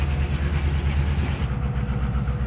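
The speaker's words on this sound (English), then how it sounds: "the train clearing the second crossing," A Mount Hood Railroad train rolls over a road crossing, its deep, steady rumble of wheels and cars close and loud throughout, with no voices.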